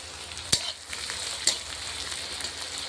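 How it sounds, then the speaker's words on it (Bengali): Green chillies frying in oil in a pan over high heat, a close crackling sizzle with two sharp spatula knocks against the pan, no voices. "কাঁচা লঙ্কাগুলো দিয়ে দিচ্ছি। তারপরে একটু নেড়ে নিলাম।"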